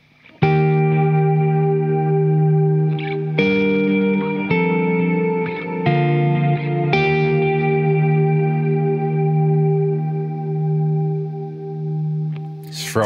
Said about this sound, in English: Let's add some reverb and delay into the effects loop using the starlight,